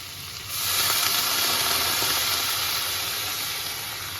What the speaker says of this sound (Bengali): এবার এর মধ্যে আমি জল দিয়ে দেবো।